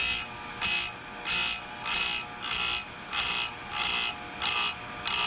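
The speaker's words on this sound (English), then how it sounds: "this makes sharpening chains really easy and real efficient" An Oregon 620 chainsaw chain sharpener grinding chain teeth, with nine evenly spaced short bursts of high, whirring grinding against a steady motor hum, close up with no talk.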